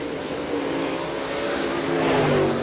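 A modified race car roars past on the oval track at County Line Raceway, its loud engine drone swelling as it nears, steady and close, with no voices over it.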